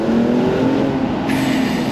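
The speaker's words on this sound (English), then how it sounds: "I'm going to downshift again to second." A BMW M235i's engine drones and rises sharply during a downshift to second gear, heard loud and close from inside the car with no talk.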